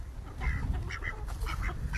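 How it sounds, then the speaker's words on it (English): Two ducks quacking nearby, a run of rapid, nasal calls in uneven bursts over a low background rumble, fairly close, with no talking. "Them two ducks right there."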